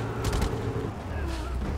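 Cannon fire in Just Cause 3, heard as a quick burst of sharp blasts early on followed by a rumbling boom and low fading explosions, fairly loud within busy game noise.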